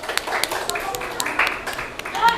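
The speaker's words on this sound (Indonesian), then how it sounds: "kita tepuk tangan" A classroom of students applauds, a loose scattered patter of hand claps mixed with chatter and voices.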